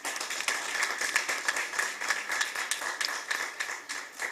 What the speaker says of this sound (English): Let's give them a loud hand clap